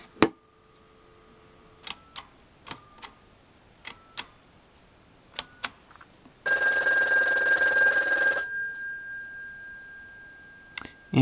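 A BellSouth phone line rings with a call placed from another extension, giving one sustained electronic ring burst of about two seconds, preceded by scattered soft ticks and handling clicks in a quiet room.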